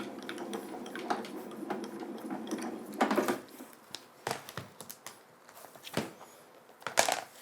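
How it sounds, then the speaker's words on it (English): A die-cutting machine grinds and crunches steadily as it presses an embossing die through paper, followed by a few sharp creaks and clunks at uneven intervals. "we'll just give this one a quick emboss. And you can hear it pushing into the paper"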